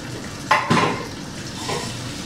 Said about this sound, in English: So I gotta wash my pan now.